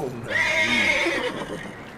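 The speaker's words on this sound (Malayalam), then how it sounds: "ഹോഴ്സ് കാം കാം, നല്ല കുട്ടിയായിട്ട് പോരെ." A horse in the Red Dead Redemption 2 video game gives a loud, drawn-out whinny that rises and falls over about two seconds, close and clear over a faint game backdrop.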